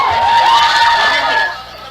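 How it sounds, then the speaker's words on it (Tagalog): Pro-Pacquiao supporters watching a presidential debate on an outdoor screen along Pitan Street cheer together in a short, loud burst of shouting voices that fades quickly. "Every time their candidate answered, the crowd went wild."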